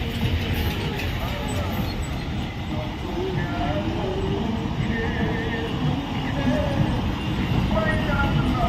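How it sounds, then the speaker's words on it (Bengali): A long train rolls along under a bridge with a continuous low rumble and clatter of wagons, holding steady at close range, with faint voices mixed in. "দেখো ব্রিজটার নিচ দিয়ে কি সুন্দর ট্রেনটা যাচ্ছে।"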